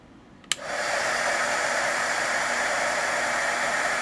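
Heat embossing gun switching on with a click, then a steady, loud hair-dryer-like whoosh of blowing hot air that holds constant.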